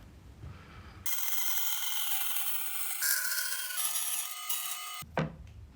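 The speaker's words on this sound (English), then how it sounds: "I'm just gonna cut this out in the bandsaw." A bandsaw cuts out the neck pocket of a wooden guitar body, a steady loud whining rasp running for about four seconds with pitch shifts as the blade feeds through the wood, then stopping abruptly.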